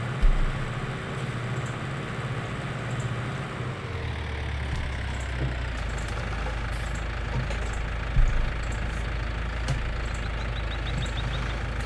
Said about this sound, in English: So the speed on this tractor is quite healthy.